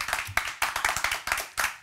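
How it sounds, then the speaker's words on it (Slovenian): A small studio audience claps in a short burst of loud, close handclaps with an uneven rhythm during a Slovenian talk show segment. "En aplavz, to je bil."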